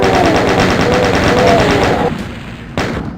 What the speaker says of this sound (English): We're going to open up this panel and shoot everything I see.